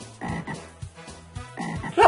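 Several frogs croak in the video game Crazy Machines, giving a run of loud, raspy croaks in quick uneven bursts, all close and with no voices over them.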